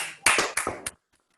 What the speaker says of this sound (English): I saw everybody started clapping on the count of 3